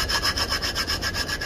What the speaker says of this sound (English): We're drilling a hole for the lock to go through.